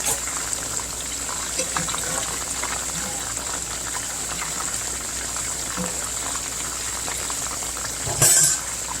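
Pot of peas and rice cooking in coconut milk with a little butter, bubbling and simmering steadily close up, with a brief louder splash or clatter near the end.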